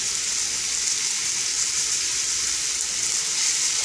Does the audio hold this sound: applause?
no